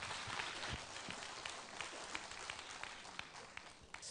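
Scattered applause from a forum audience as a presenter is welcomed on stage, rather faint and sparse, with distinct individual claps rising above a thin background and tapering off toward the end.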